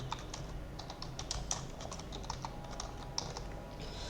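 Quick, uneven keyboard typing at a computer, entering text into a form, with light clicky keystrokes close by over a faint steady background hum.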